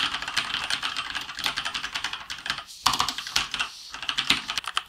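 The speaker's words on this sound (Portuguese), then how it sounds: "vocês querem ver o barulho do teclado" Rapid typing on an MK Plus Slayer M3 keyboard, a dense run of close, crisp key clicks at an uneven rhythm, heard alone for several seconds.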